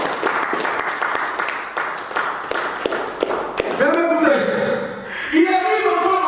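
A church congregation claps and cheers in acclaim of Jesus, steady applause with scattered taps filling the first half, then raised voices and shouts of praise taking over toward the end.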